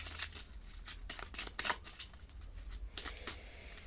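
Tarot cards being handled and covered on a table, a quick run of soft papery slides and flicks repeating rapidly at close range for a few seconds with no speech.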